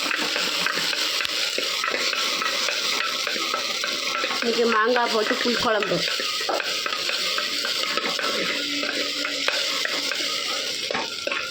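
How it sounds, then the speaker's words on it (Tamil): Tomatoes sautéing in a pan for a Tamil mango tamarind curry with coconut, giving a steady sizzle with spoon scrapes and stirring clatter throughout, while someone talks over the cooking. "தக்காளி பழம் நல்லா வதங்கட்டும்."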